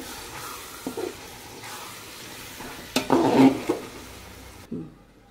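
Onions and sliced tomatoes cook in a pan for chicken biryani, giving a moderate sizzle with a few stirring scrapes and knocks. A louder burst of stirring comes midway, and it drops to near silence at the end.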